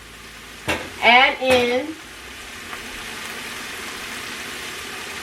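Chicken sausage sizzles steadily in a hot pan, a soft constant hiss running throughout while a voice speaks briefly over it near the start.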